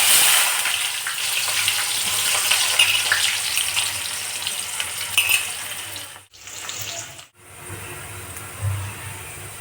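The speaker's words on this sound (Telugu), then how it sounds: "ఆయిల్ అయితే హీట్ అవుతుంది. ఆనియన్స్ అయితే వేస్తాను." Onions frying in hot oil for mutton biryani give a continuous sizzle with some watery hiss, steady and close, briefly broken twice near the end.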